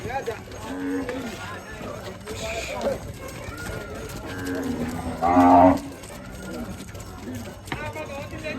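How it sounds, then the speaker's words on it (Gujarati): A cow gives a loud, low moo partway through, amid a noisy outdoor scene with people talking and cattle moving about. "ગાયો બધી જો વાળે જાય છે"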